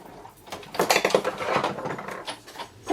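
Several clunky mechanical knocks and rattles come in quick bursts, close up, as a hand-cranked die-cutting machine rolls plates through.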